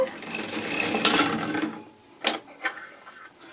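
A hand-cranked sock knitting machine turning back toward one side, its carriage giving a continuous whirring, rasping mechanical run that ends, followed by a couple of brief clicks and clunks as the needles are handled.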